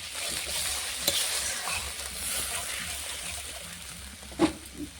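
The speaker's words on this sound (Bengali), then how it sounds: "এবার দিয়ে দেবো টক দই, অল্প পরিমাণে জল দেবো, ভালো করে নাড়িয়ে নেব।" Sour curd and a little water stirred into masala frying in a pan, a steady soft sizzle with scraping stirs and a couple of louder knocks of the spoon, no voices.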